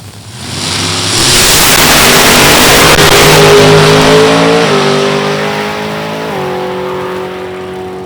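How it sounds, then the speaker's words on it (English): A top dragster race car launches hard at the Beech Bend drag strip, its engine roaring loudly up through rising pitch steps before the note drops and fades as it pulls away and shuts off. "Car launched hard and shut off before the half-track mark"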